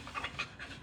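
A Labrador pants in quick, rhythmic breathy bursts, close and moderately loud, with no talking over it.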